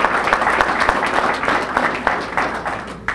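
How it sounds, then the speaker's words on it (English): A crowd at an outdoor press event for a coastal restoration project breaks into a dense round of clapping that holds steady for a few seconds, loud and close. "Let's give these folks a great round of applause for their tremendous work towards coastal restoration."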